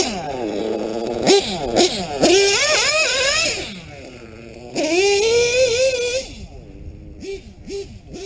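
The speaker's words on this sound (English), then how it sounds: "This is probably in my top 5 favorite engines. The Novorossi P5 XL RCR modded." A modded Novorossi P5 XL RCR nitro engine revs in sharp, rising bursts with a high, buzzing whine, several quick throttle blips and sustained climbs, loud and close.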